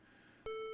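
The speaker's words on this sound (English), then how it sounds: "You can hear the beeping in the background very faintly here." A soft hum gives way to a sudden, steady electronic tone, a pure buzzy square-wave beep from an NES game that starts abruptly and holds.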